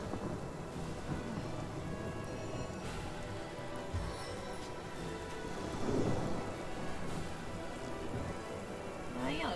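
Rain summoned by a spell in the fantasy role-playing game Divinity: Original Sin, a steady wash of falling rain with rumbling thunder-like swells, continuous for several seconds and swelling louder near the middle.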